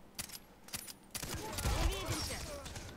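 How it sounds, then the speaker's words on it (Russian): Gunfire in a Far Cry 3 shootout: a rapid series of sharp shots and bursts, moderately loud, ending in a denser flurry of firing with faint sounds in the background. "Понятно, снова перестрелка."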